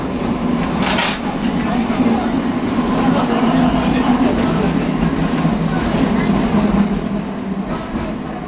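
A Kumamoto City Tram 8500 series car rolls along between Kumamoto Station and Karashimacho, with a loud steady rumble of wheels and motor, rail hum and faint clatter heard from inside the car throughout.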